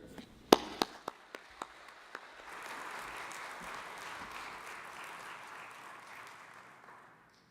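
Audience applause in a church service welcomes a speaker to the front, opening with a few sharp separate claps before swelling into a steady, moderately distant wash of clapping that fades out after several seconds.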